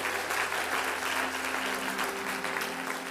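A church congregation claps steadily together in dense, continuous applause that fills the room at an even volume, with a faint voice underneath.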